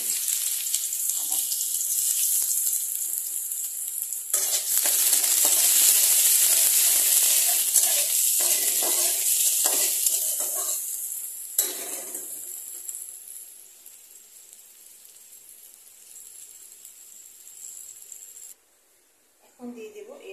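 Spices and raw chilli sizzle in hot oil in a wok while Bengali aloo tarkari is cooked, a loud, steady, broadband crackle that dips midway and fades toward the end, with a voice speaking over it in places.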